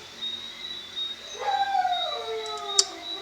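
Dogs howl together from a short distance, rising and falling wails with a few yips sliding across one another before trailing off.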